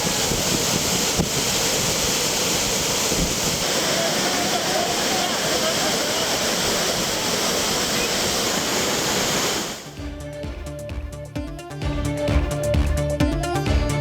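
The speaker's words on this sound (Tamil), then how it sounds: "குற்றாலம் மெயின் அருவியில் 4 நாட்கள் தடைக்கு பின் குளிக்க அனுமதி." Roaring rush of the main waterfall at Courtallam where tourists bathe, a dense steady broadband wash that cuts off abruptly near ten seconds into a different, tonal background.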